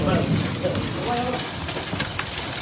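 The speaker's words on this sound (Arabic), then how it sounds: "أمطار غزيرة على سلم الزواهر" Heavy rain pours at Al-Hubaqa, south of Al-Lith, as a dense, steady hiss that fills the whole clip, loud and close, with faint voices blended into the downpour.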